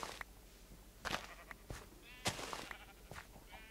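Sheep in the Minecraft video game bleat several times in short, separate calls, quiet and clear with small game sounds between them.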